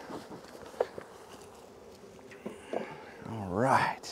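Honeybees hum softly beneath a person talking during a spring hive inspection, with scattered handling noises.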